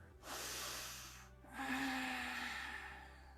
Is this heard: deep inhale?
yes